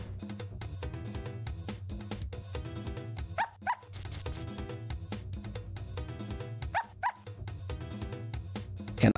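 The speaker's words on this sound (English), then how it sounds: "The barking monkey." A barking monkey in a video game, with repeated yapping and whimpering dog-like calls over a steady musical background. Short yips sound at regular intervals, moderately loud and close.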